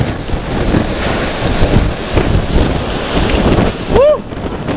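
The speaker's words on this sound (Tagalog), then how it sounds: "Napakalakas ng ulan." Heavy rain and gusting wind during Typhoon Pedring, a loud, constant roar of downpour with wind buffeting the microphone, and a short rising voice-like whoop near the end.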